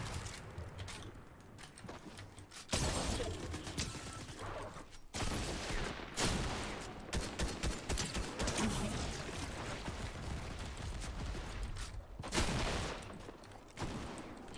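Gunfire in a Fortnite fight clatters in sustained dense volleys, fairly loud, broken by a few short lulls.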